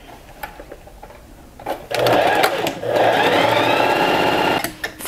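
Domestic sewing machine stitching a seam on a fabric pet collar bib, a steady close-up whirring hum in two bursts with a brief pause between, after quiet handling noises.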